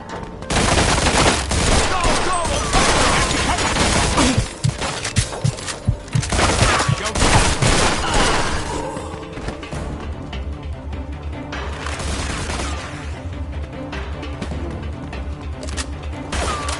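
Rapid bursts of gunfire from the video game Mafia II, with dense clattering volleys and sharp shots over the first half before easing into a lower, busier din.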